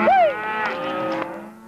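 A cow on a cattle drive in Utah's red rock country moos once, loud and close, a long rising-then-falling low bellow that holds for over a second.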